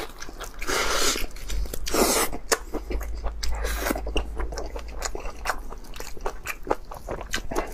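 Loud close-up bites and wet chewing of spicy meat tendon, with crunchy, smacking mouth sounds repeating over several seconds and no talking.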